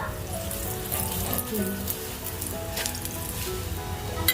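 German-style pancake batter sizzles steadily in two hot pans, a continuous crackling fry with small pops throughout.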